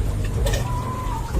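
A single hen calls briefly with a soft, drawn-out tone over a low outdoor rumble.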